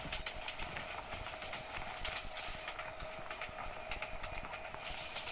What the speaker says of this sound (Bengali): যেটা বলতে বলতেছিল সেটাই ট্রেন চলে এসেছে